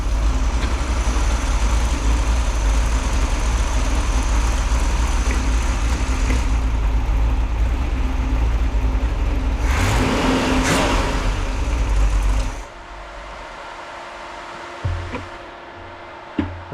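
A 1967 Pontiac 400 V8 with a Ram Air cam runs loudly and steadily, with a short rev partway through, then cuts off abruptly, leaving quiet with a few small knocks.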